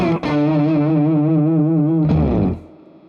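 Electric guitar run through a POG octave pedal with overdrive, a single sustained chord ringing with shimmering layered octaves and grit, then a second strum and quick decay into silence.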